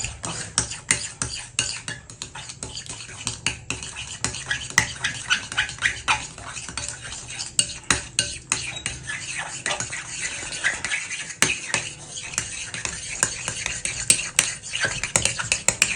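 Transparent soap base is stirred and mixed in a pot, with a continuous run of clinks and scrapes of a utensil against the metal, busy and close.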